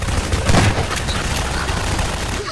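Gunfire in Garry's Mod Prop Hunt aimed at a player hiding as a banana prop, a dense continuous barrage of rapid shots with booming low end, loud and unbroken for the whole stretch, no speech.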